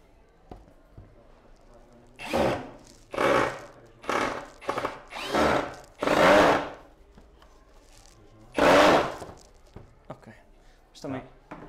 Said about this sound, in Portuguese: Às vezes é também importante perceber se esta é a ponteira adequada ao parafuso. E por isso é que faz este barulho.